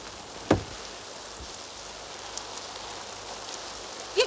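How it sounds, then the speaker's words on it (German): Steady rain pours down outdoors in a 1936 period scene, a dense even hiss with a couple of sharp knocks near the start and end, and no voices. "Ob es noch lange regnen wird?"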